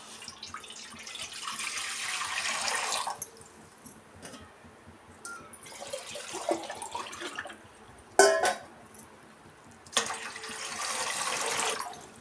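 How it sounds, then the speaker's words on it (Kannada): Water runs steadily into a cooking pot set on a stove, ready for boiling lentils, in two long pours split by quieter handling and a sharp clank of metal, close by with no voices. "ನೀರು ಸೇರಿಸ್ಕೊಳ್ಳೋಣ."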